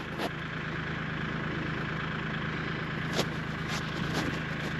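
A tractor engine runs at a steady, close idle-like drone while it pulls a hickory stump with a direct chain, with a few brief knocks and clanks standing out over the constant rumble.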